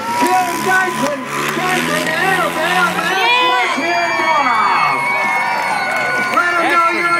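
Crowd noise swells at a freestyle motocross show with car crushing, voices shouting and cheering continuously over a loud announcer-style voice and engine hum, dense and close throughout.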